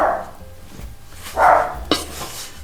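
A household dog barks a few times from across the room while bread dough is being worked in a kitchen, short separate bursts at moderate loudness with quiet gaps in between.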